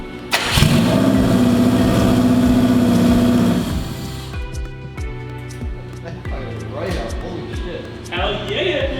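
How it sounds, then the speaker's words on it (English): Engine of an AWD Mazda Miata rally car catching on its first start-up with a new fuel system, roaring loudly for a few seconds before settling into a steady, slightly uneven idle while people talk nearby. "the Rally Miata is now running"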